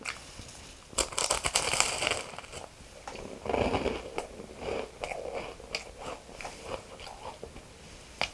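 Crisp bites and crunchy chewing close up on a pistachio pastry, a loud crunch early on followed by repeated smaller crackles and chews, no talking.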